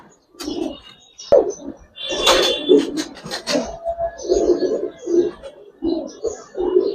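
Giribaz and coloring pigeons coo repeatedly in a steady, close rhythm, with soft overlapping calls and a few brief sharper noises between them.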